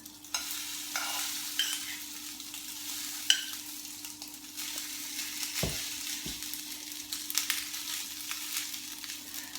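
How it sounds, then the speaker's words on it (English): Two pancakes sizzle gently in a hot pan greased with Fry Light, a soft steady crackle broken by a few light scrapes and taps of a utensil, with no voices. "I've got my hot pan on with fry light. I'm going to dollop,"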